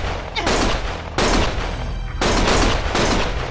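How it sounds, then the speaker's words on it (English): Gunfire in the video game Lost Judgment: loud, dense bursts of rapid shots in two long volleys with a brief gap between, no voices. "Stop shooting!"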